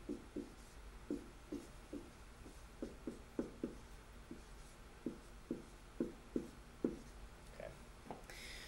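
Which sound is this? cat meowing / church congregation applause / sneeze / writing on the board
writing on the board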